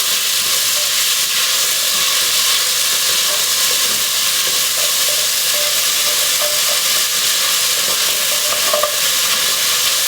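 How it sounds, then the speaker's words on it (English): Onion sautes in a pot for pork and Hatch chile stew, a loud, steady, close sizzle and hiss with occasional faint stirring scrapes. "Just saute that for a little bit till the onion softens."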